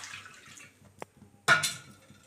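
Water is poured into a kadhai for a besan and potato curry, a short splashy rush following quieter kitchen clinks.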